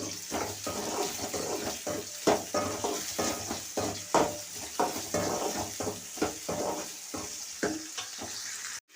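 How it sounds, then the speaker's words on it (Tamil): Onions sauté in a pan for a bottle gourd lunch dish: a continuous sizzle punctuated by regular scraping stir strokes roughly every half second, close and clear, without speech. "வெங்காயம் வந்து ஒரு டூ மினிட்ஸ் வந்து நல்லா வதங்கிட்டேன்"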